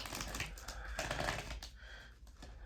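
Tarot cards shuffled close up make a quick run of papery riffling taps, dense and rapid for about two seconds, then a few softer flicks at the end.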